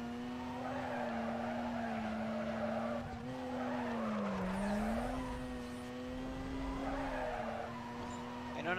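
Sustained tire skid from a car drifting in Need for Speed Carbon, a steady engine drone with squealing tires that waver and swell over nearly nine seconds, loud and continuous.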